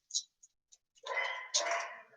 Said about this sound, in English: I'm sorry for your background noise, my dog is barking.